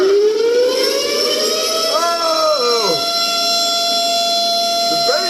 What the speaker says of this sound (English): Let me turn on the alarm there.